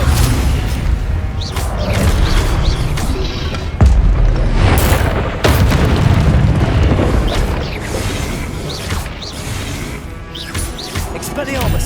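Repeated Confringo blasting-curse explosions in the Hogwarts Legacy video game, heavy booming blasts and crashes over a loud battle mix, with a voice shouting spell names between impacts.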